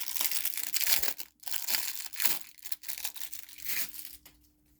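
A small Temu package being opened by hand, its plastic wrapping crinkling and tearing in loud, close bursts broken by short pauses.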